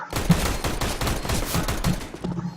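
Several muffled gunshots crack under a soft background of movement in the video game CS:GO on the Dust 2 map, with an AWP sniper rifle in play.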